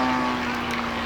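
A Yak 54 scale model airplane engine at full throttle during a display at Midlands Air Festival 2022 gives a steady, buzzing drone over a wash of outdoor wind noise, in a brief burst.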